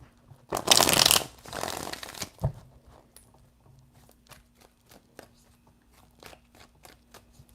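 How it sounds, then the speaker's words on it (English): Cards are riffled in two loud bursts, then a run of soft, scattered clicks and taps as the deck is handled and squared. "Three shuffles."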